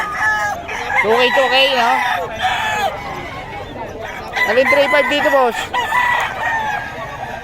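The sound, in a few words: chickens and roosters at a poultry market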